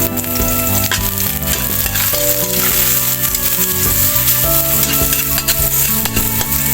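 Onions sizzle and crackle in a hot pan of oil, stirred now and then, a steady close frying hiss with light clinks, all under continuous background music.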